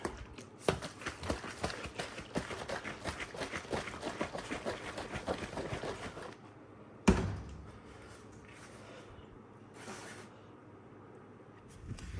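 A bottle of homemade blue windshield washer fluid is shaken hard, giving six seconds of rapid rhythmic sloshing and rattling, then a sharp knock and a few faint thuds, close and quiet.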